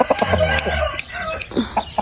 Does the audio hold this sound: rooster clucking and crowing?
yes